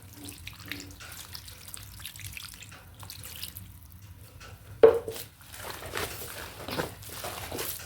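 Water runs from a tap close by into homemade sausage mince being mixed, splashing and trickling, with a sharp clatter midway and the flow continuing afterward.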